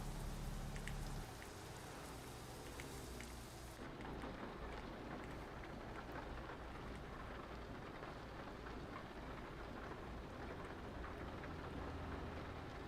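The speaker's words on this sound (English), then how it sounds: "It's a lot of rain, man." Heavy rain drums steadily on a loaded truck cab while driving on the highway, a dense, loud, unbroken roar with a low engine hum underneath.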